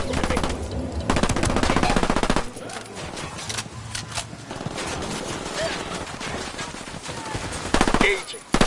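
Heavy automatic gunfire in the Ghost Recon video game rattles in dense bursts, loudest at first, then settles into continuous scattered shooting with battlefield noise.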